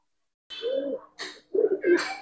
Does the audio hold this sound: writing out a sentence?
no